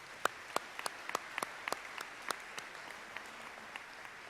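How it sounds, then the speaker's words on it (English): At a senior academic awards ceremony, a small audience claps sparsely. The individual hand claps are distinct and scattered, fairly faint and thinning out toward the end. "Let's give them a round of applause."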